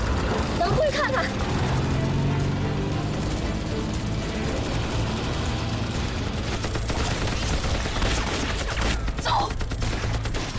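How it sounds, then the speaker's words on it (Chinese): Rapid gunfire fills a kung fu war film scene against Japanese soldiers, continuous volleys and crackling shots throughout, with scattered loud bursts near the end and voices faintly underneath. "枪声好像是从前面传来的"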